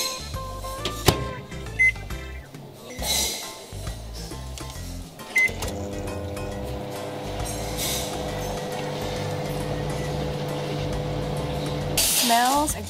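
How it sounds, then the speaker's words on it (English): A steady low electric hum with a faint mechanical whir runs for several seconds, after some brief clatter and handling noises, ending with a beep. "Then I microwave it."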